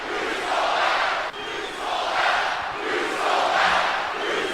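In the wrestling video game WWE 2K25, an arena crowd roars and jeers in rolling waves, a loud, continuous mass of voices that swells and dips without letting up.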